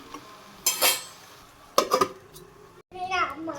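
Metal clatters in a village kitchen as a lid goes onto a pot of cooking gourd: two bright clanking bursts, one early and one near the middle, followed by a voice chattering.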